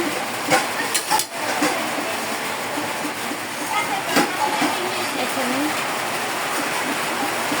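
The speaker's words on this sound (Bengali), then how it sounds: "আবারও বৃষ্টি শুরু হয়েছে" Rain falls in a steady rushing wash with a few sharper knocks and clatters nearby, while a voice speaks briefly over it.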